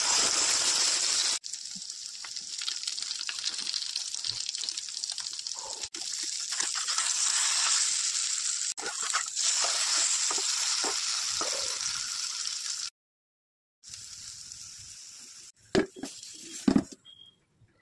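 An egg omelette fries in oil in a wok, giving a steady loud sizzle that runs unbroken, cuts out briefly near the end, then returns with a few sharper pops and clatters.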